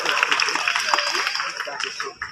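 An audience at a night safari owl show in Singapore applauds, producing a dense, steady wash of clapping that holds for about two seconds before dropping off abruptly.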